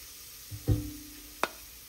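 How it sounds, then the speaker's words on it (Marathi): Onions fry in a pan while being stirred, a low sizzle punctuated by two sharp utensil knocks against the pan, close and brief. "सो फ्रेंड्स मोदे मोदे न्हू ऑनियना स्टर करीत रावपा जाय."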